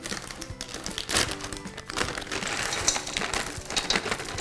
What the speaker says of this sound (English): I do like to do a package of the Guitar milk chocolate chips, and these are the extra large ones. Just throw them all directly in.